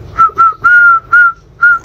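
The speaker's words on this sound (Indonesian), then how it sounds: "Ngapain kamu bersiul" A person whistles a short, loud tune up close, five bright held notes separated by brief pauses, with no other sound around them.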